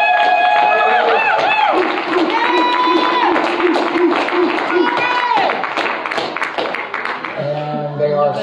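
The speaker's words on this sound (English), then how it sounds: "Let's give a Pentecostal applause for the children of the Father's house." Congregation applauding children at a Pentecostal church Christmas service, steady dense clapping mixed with crowd noise and voices throughout, tapering slightly near the end.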